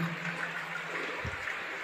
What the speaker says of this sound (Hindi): अविरल धारा इसमें बह रही है